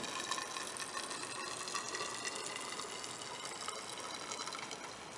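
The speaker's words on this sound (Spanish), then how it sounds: "de vidrio recibe el mercurio con un chorro muy fino." Mercury running from a syringe in a very fine, steady stream into a glass tube during a hydrostatic and atmospheric pressure demonstration, a continuous hissing trickle heard close and alone.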